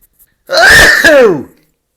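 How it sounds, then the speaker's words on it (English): A single loud, close sneeze, a sharp inhaled build-up bursting into a forceful expulsion, with silence before and after. "I'm going to sneeze."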